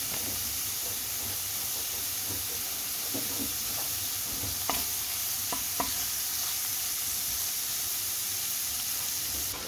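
Shrimp fry in butter in a pan with a constant close hiss and crackle, punctuated by scattered sharp pops and spatters throughout, no voices.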